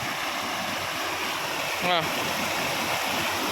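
Heavy April rain sends floodwater rushing steadily, a loud continuous broadband wash with a brief gurgling swell near the middle.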